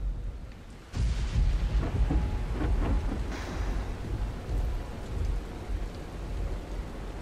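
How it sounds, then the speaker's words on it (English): Heavy rain pours steadily in the night-time zombie video game Dying Light, with low rumbling thunder rolling underneath and a sharper crack of thunder partway through, all without voices. "It's night, it's raining, it's thunderstorming."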